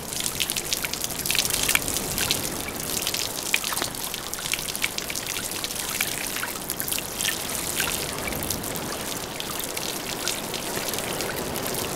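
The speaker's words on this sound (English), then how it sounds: "his own private power shower" Water pours down over rocks like a shower onto a rockhopper penguin, a steady, close splashing gush with trickles and drips that runs unbroken throughout.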